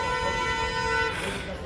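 Car horn blaring in a traffic jam, one sustained harmonic honk held for about a second before cutting off, over a low rumble of idling street traffic.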